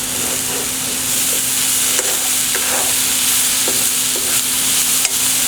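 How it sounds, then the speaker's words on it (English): Beefy hoagie filling fries loudly in a pan with a dense, constant sizzle, broken by a few light scrapes and taps as it is stirred, close up and without talk. "Alright, and we can stir this again."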